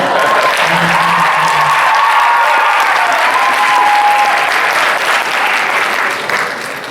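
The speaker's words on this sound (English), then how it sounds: "Clapping, everybody!" Audience at a contest event applauding loudly and steadily, a thick sustained roar of many hands clapping for several seconds, with faint voices and a cheer mixed in before it eases at the end.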